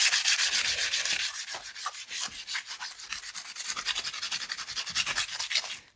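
Kitchen foil rubbed back and forth over the rust on a classic chrome bumper, a rapid, continuous scratchy scrubbing close up and fairly loud, with no one talking.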